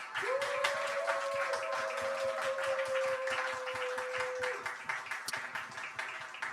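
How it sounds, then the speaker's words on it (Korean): A congregation at a youth worship service claps loudly and steadily to celebrate a gift presentation. The dense applause holds for several seconds under a long sustained tone, then fades slightly toward the end. "우리 선물 드릴 때 우리 한번 크게 박수 한번 합시다."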